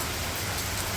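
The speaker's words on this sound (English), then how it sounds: "you might be able to hear the rain in the background" Steady rain falling outside a covered front porch, a dense, even hiss that fills the moment with no voices and no break.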